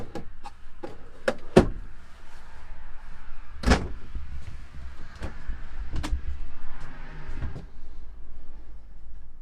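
Full-extension kitchen drawer in a 2020 Thor Motor Coach Four Winds 23U Class C motorhome, with a series of sharp knocks and clunks as it is opened and shut, plus a soft sliding rumble, close by.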